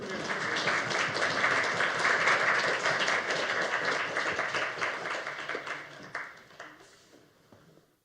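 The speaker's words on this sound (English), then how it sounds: "You can clap now." An audience applauds after a presentation at a 0xInternational event, with steady, dense clapping for about six seconds before it thins and trails off into a few scattered claps.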